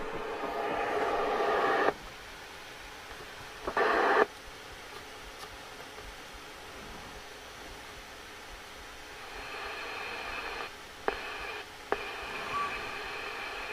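Icom IC-735 radio receives a mistuned single-sideband signal, hissy static with garbled bursts of distorted voice-like sound fading in and out, faint and alone.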